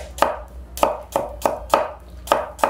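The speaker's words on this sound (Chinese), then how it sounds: "红葱头切片" Shallots sliced with a knife on a cutting board, eight crisp, evenly spaced chops in a quick steady rhythm, close and clear with nothing else going on.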